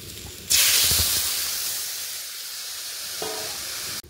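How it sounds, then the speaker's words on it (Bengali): Water poured into a hot pan of fried potato and pointed gourd, an abrupt loud sizzling hiss that bursts up and then slowly settles into steady bubbling steam. "আলু পটলটা ভাজা হয়ে গেছে, এবার কিন্তু আমি জল ঢেলে দেবো।"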